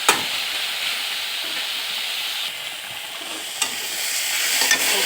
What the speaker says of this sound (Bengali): শাক রান্না কমপ্লিট একেবারে ভাজা ভাজা করে ফেলছি